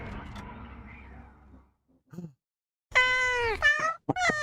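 A cat in the fantasy game Wartales meows twice, clear and close, following a stretch of low game ambience and a brief soft sound.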